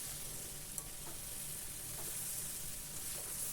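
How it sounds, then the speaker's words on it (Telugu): Brinjals fry in a hot pan for a Telugu-style tamarind-free vankaya pulusu, giving a steady, continuous sizzle with faint stirring scrapes throughout, close and moderately loud, with no talking. "వంకాయలు చక్కగా వేగిపోయాయి"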